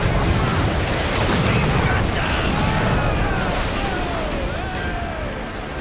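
Ship cannon fire in the Assassin's Creed Black Flag video game on PS5, loud booming broadside blasts rumbling continuously amid naval battle noise, with crew voices shouting over the din.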